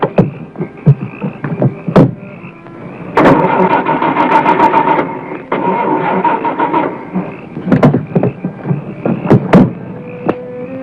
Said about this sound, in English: But my car won't start, and I have to catch a plane.